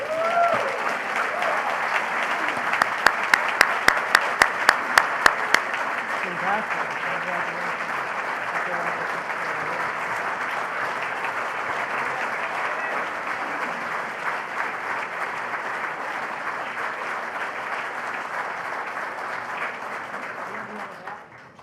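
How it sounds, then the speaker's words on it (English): Long, steady audience applause at an awards presentation during Sigma Nu's Grand Chapter gathering, with a few sharp nearby claps early on before the clapping continues evenly and tapers off at the end. "Ladies and gentlemen, a huge round of applause to Stanley Bugh from Oklahoma State University."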